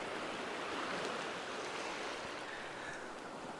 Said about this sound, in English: So here comes a good wave now.